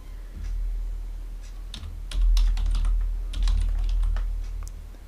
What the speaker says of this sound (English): I'm going to put in the password for this.